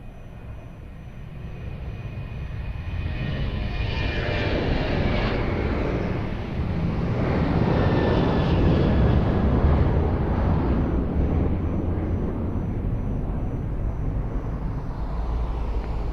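Ryanair airliner approaching to land on runway 02 at Lisbon Airport, a broad, sustained jet roar that swells gradually and holds steady throughout, heard from outside at a moderate distance.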